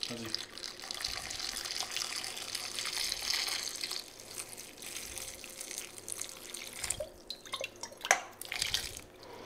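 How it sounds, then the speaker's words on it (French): Salted water poured over small onions, a faint splashing and trickling stream running continuously with a few drips, under a person talking. "on verse tout simplement l'eau salée sur les oignons"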